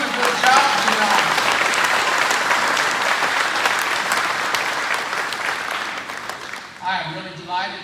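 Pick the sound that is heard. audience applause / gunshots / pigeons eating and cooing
audience applause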